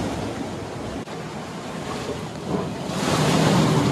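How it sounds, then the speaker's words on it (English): Flowing water and surf wash steadily along the coast at Manuel Antonio, a broad continuous rush that swells louder toward the end, with wind buffeting the microphone. "Ah, the water's flowing from the other way."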